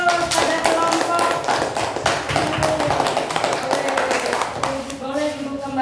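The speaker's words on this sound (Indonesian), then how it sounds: "Oke, beri aplaus pada kelompok." A classroom of students applauds a presenting group with dense, steady clapping from many hands that carries on for several seconds and stays loud and close.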